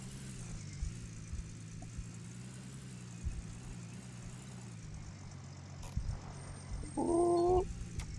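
A truck engine in the Gold Rush video game idles and rumbles steadily at a low, even pitch, with a brief tonal blip and a louder surge near the end.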